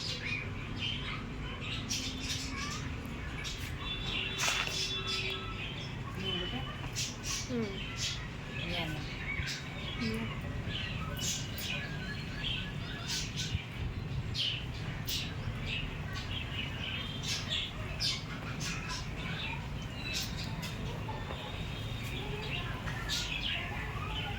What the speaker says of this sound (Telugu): మనం ఇప్పుడు డీప్ ఫ్రై చేసుకుందాం గర్జలు.